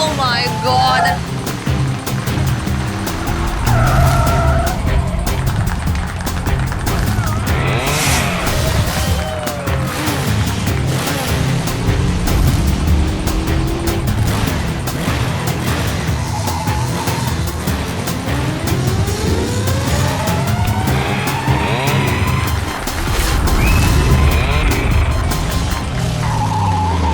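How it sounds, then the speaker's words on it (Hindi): Stunt motorbikes skidding as riders pull a big wheelie, with continuous engine roar, screeching tire squeals and rising whines over nearly half a minute, under excited commentary. "हमारे सुपर बाइकर्स अपने स्टंट्स के साथ ऑलरेडी चालू हो चुके हैं और ये इधर उन्होंने मारी एक बड़ी विल्ली"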